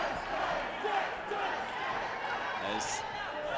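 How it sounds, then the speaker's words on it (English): Crowd at a professional wrestling tag-team match chanting a taunt at a wrestler, a dense, steady roar of many voices filling the arena with no clear pauses. "The crowd chanting Toots at Eddie Osbourne."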